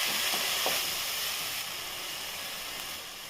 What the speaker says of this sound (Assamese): সেই ৰৈ যোৱা সেই তেলখিনিতে যিটো আদা নহৰু আৰু পিঁয়াজ পেষ্ট বনাই লৈছিলোঁ সেই মছলাখিনি ভাজি লৈ ল'ম